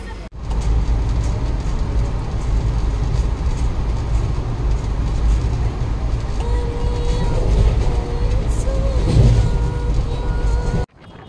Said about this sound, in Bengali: অমরাবতী এক্সপ্রেসে আমরা প্রায় 34-35 ঘন্টা কাটিয়ে ফেলেছি